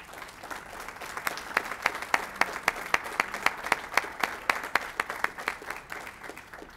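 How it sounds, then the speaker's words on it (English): A room of people at a school board meeting clapping steadily for several seconds, the applause fairly close and even without cheering. "If you'd please join me in applauding him in absentia"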